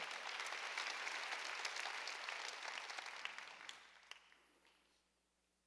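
Church congregation clapping during a Sunday worship service; a loud, sustained round of applause from many hands that thins out and fades to near silence in the last seconds.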